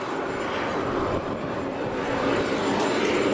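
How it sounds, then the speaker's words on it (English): Steady airplane cabin noise during a Belarus airline flight, a loud continuous broadband engine and air roar with no voices. "This is what flying Belarus air looks like."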